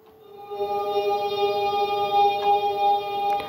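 An F perfect fifth held on a soft Dream Pad synth patch, a steady, bright sustained interval that swells in and rings evenly for a few seconds, with faint clicks near the end and no voices.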